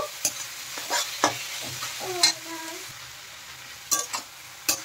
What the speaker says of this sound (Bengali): টমেটো সসটা দেওয়ার পরে আর একটু নেড়ে চেড়ে ভালোভাবে মিশিয়ে দেব।